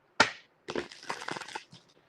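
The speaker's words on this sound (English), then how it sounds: "I'm going to shuffle these cards a little bit." Tarot cards being shuffled by hand, a sharp riffle followed by a crisp papery rustle of cards sliding and flicking, close and alone.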